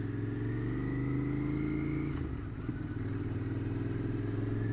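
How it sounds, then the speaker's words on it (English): A 2021 Royal Enfield Interceptor 650 motorcycle rolling gently along at low speed, its engine giving a steady, smooth low throb with a slight dip partway through, close and continuous with no talking. "we're just trickling along, and the engine, it's just purring"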